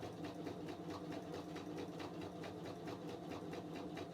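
A sewing machine runs steadily, stitching around a small fabric appliqué figure for a 3D appliqué napkin ring, its fast needle rhythm continuous and close throughout with no pauses.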